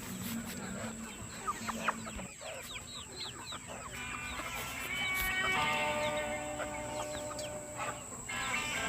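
Chickens cluck and chatter in a steady farmyard chorus, with a few sharper calls rising over a constant background hum.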